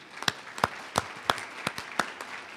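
A few people at a university gathering clap for a group of ambassadors, sparse distinct claps about every third of a second, close and clear over a quiet room.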